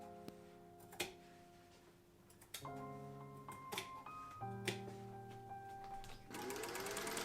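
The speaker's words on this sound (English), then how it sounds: "Then I sewed the shoulder seams, trimmed the seam allowances, and cut the back open." A sewing machine stitches the shoulder seams of a lace-yoke silk blouse in short runs, its whirring hum rising and stopping with sharp clicks and taps between bursts.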